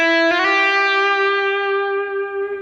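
A sustained electric guitar chord rings out with a long reverb tail, struck twice near the start and slowly fading, with a slightly processed effects sheen.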